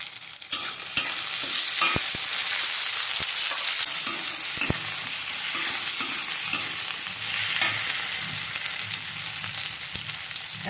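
Chopped tomatoes hit onions that are already browning in a hot pan for a bottle gourd and egg curry. A loud, steady sizzle is broken by a few sharp clinks of a utensil against the pan, with no talking.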